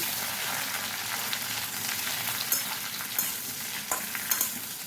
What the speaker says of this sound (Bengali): এখন কেটে রাখা পটলটাও দিয়ে দিচ্ছি কম আছে পটলটাকে বেশ কিছুক্ষণ নাড়াচাড়া করব